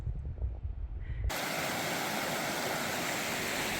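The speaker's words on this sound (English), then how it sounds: "Little bits of ice floating down the river." A mountain river in Jotunheimen carries small bits of floating ice, heard as a steady, close rush of water that swells in suddenly after a brief muffled start.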